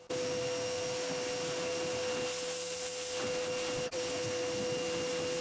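A vacuum cleaner deep-cleaning the carpet of a 20-year-old BMW 7-Series roars steadily and loudly up close, with a brief dip near the end.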